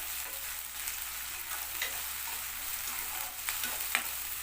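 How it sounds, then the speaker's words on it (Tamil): Ginger garlic paste sautés in hot oil in a pan, a steady close sizzle with soft stirring scrapes and a few sharper crackles, no talking. "இஞ்சி பூண்டு பேஸ்ட் போட்டு நல்லா 2 நிமிஷத்துக்கு பச்சை வாசம் போகிற வரைக்கும் வதக்கிடுங்க."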